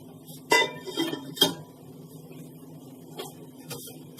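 Metallic clanks of a lid set on a pot of Sindhi kadhi, two sharp clinks close together then a softer one, over a low steady kitchen hum.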